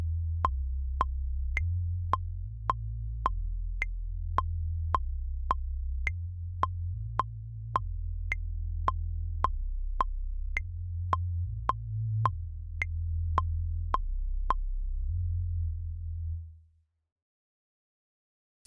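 A synthesized beat built in the Massive synth plugin plays on its own: steady, evenly spaced sharp ticks over a sustained low bass pulse that shifts pitch every few bars, ending with the bass cutting out.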